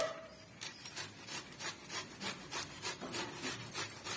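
Raw green mango being grated into thin shreds, a steady series of about a dozen rhythmic rasping strokes, close and fairly quiet, with no talking.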